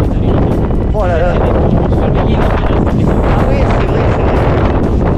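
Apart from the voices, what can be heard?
wind blowing on an outdoor plateau in Provence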